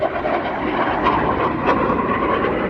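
Military jet aircraft engines roar steadily during an air show display at RIAT 2022, a loud, broad continuous rush without a break.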